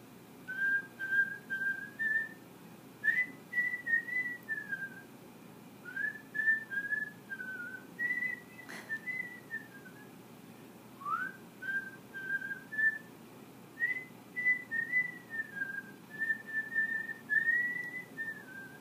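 An elderly woman whistles a tune alone in a quiet room. The whistling is clear and close, a series of short melodic phrases with brief pauses between them.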